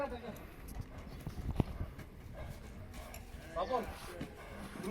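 Horses' hooves clip-clopping on hard ground in a rural yard, faint and irregular, underneath people talking nearby.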